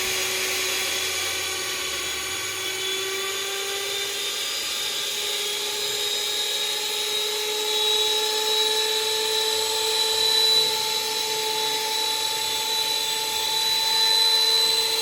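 A small blender spins on its own, mixing a packaged powder with warm water: a steady high-pitched motor whine with a faint rising tone, continuous and fairly close, with no talking.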